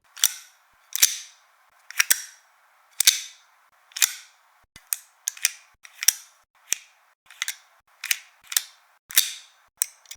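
A small plastic device is opened, shut and snapped repeatedly, giving a series of sharp, close clicks and clacks at irregular intervals, some single and some in quick pairs, with no talking.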